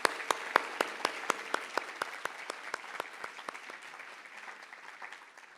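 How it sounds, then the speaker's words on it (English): An audience at a UK spiritual retreat gives a round of applause: many hands clapping in a sustained wash, with sharp single claps standing out at a steady beat near the start, then tapering gradually. "So can we please give them a round of applause?"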